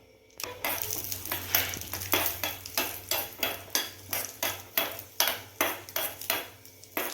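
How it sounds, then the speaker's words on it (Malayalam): Vermicelli roasts in ghee in a pan for a semiya payasam, with rhythmic scraping strokes of a spoon against the metal every half second over a faint sizzle, close and clear. "കുറച്ചൊക്കെ വറുത്തെടുക്കുക. കുറച്ച് നെയ്യ് ഒഴിച്ചു കൊടുത്തു."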